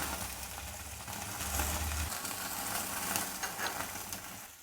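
Chicken pieces on a grill rack over a high gas flame give a steady, close hiss of sizzling and fat crackle, with a low roar from the burner underneath and no talking.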